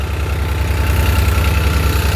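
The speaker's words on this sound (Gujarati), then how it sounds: "ન્યૂ હોલેન્ડ ટ્રેક્ટર છે" A New Holland 3630 tractor engine idles steadily close by, a loud, even low-pitched diesel throb with a regular pulsing rhythm and no voices.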